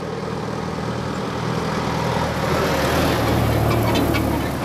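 A vintage Ikarus bus from the 1960s–70s Eastern Bloc runs its heavy diesel engine at a steady low rumble, close and continuous, with the drone swelling slightly toward the end.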